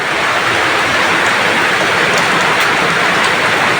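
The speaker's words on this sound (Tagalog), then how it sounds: "Ay, napakalakas po ng ulan." Heavy rain pours down at a fish pond, a dense, loud, unbroken hiss with no voices.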